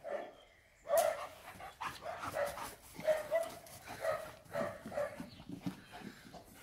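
A German Shepherd barks and yips while playing in water, a series of sharp barks and whines close by, repeating irregularly over splashy background noise.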